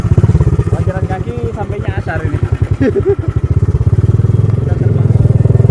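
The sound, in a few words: motorcycle revving on a muddy mountain trail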